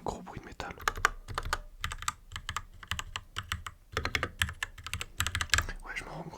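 Fast, crisp keystrokes on a small portable computer keyboard with audible metallic rattle, played close and quiet in irregular bursts with short pauses between runs.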